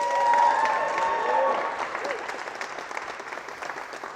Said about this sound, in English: Another big round of applause for my beautiful bride